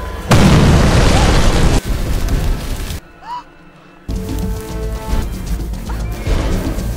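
A landmine explosion: a loud, heavy blast bursts out and rumbles on for over a second, then a hush, followed by more crashing debris and noise.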